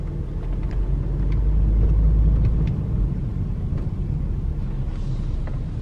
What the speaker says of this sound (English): Traffic on a Friday morning.